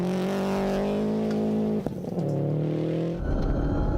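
An older, rebuilt Subaru rally car races along a gravel stage in Whangarei, its engine revving hard and close with a brief break in the note as it shifts, then pulls strongly again.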